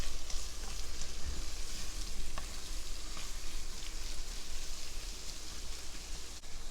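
Peppers cooking in a blond roux in a pan for crawfish étouffée make a steady, close sizzle and fry hiss, broken by a few soft stirring clicks, with no voices.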